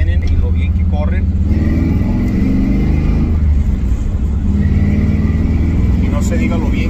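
Ford Mustang fox body with a 347 engine driving, a loud steady engine drone with low harmonic rumble and rising pitch during acceleration, heard from inside the car throughout.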